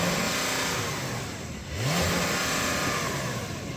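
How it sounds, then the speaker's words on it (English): Porsche 911 revving in park with a soft limiter, a mid-pitched engine held high that drops briefly and then climbs back in a quick rev, loud and close, with no talking. "I'm going to put this car in sport mode and then I'm going to rev it"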